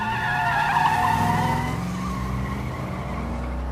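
A car pulls away outside with its tires squealing loudly, a sustained screech over a rumbling engine that holds steady for several seconds, with no voices.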